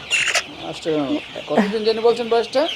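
Chickens on a large poultry farm cluck loudly and close by in a quick run of calls, with a voice speaking over them in the same space.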